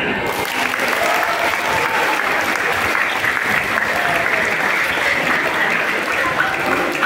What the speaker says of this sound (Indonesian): Para ustaz-ustaznya, tepuk tangan